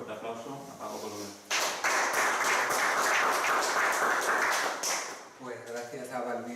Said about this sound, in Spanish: recibamos con un fuerte aplauso a Paco Colomer.